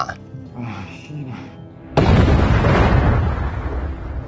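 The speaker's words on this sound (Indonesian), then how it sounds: "Duar, granat itu meledak dan robot baru itu pun ikut rusak." A voice speaks, then a thrown grenade explodes and rumbles on with a broad, roaring boom that slowly fades.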